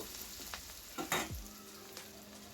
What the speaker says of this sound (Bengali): এবার কুচনো পেঁয়াজটাকে ভালো করে ভেজে নিচ্ছি